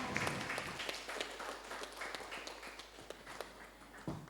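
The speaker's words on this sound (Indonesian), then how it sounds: "Mari kita berikan tepuk tangan yang meriah." Scattered, modest clapping from a school audience after a student council debate, somewhat distant and uneven, with sharp individual claps standing out over a quiet room.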